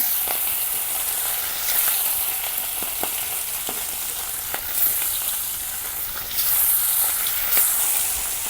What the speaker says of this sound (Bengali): আমার তেল গরম হয়ে গেছে কারেন্ট আছে ফুটি মাছ তেলের মাঝে দিয়ে দিলাম